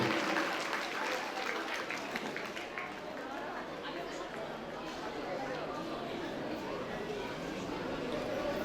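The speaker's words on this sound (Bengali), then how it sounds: "তার জন্য জোরদার হাততালি দিতে চাইছি।" An audience at an annual prize-giving ceremony of an English coaching centre claps continuously for a media guest, with a broad wash of applause and crowd murmur that stays steady throughout.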